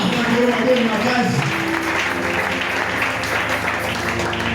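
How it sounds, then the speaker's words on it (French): A church congregation applauds loudly during an evangelical service, a steady dense wash of clapping that carries on without a break, with voices and some background music mixed in underneath. "Applaudissons très très fort."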